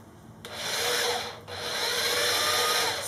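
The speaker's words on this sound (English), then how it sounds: "slowly drill this" A power drill bores slowly into a piece of wood for a DIY soap mold, a loud close whirring grind in two pushes with a brief dip between them.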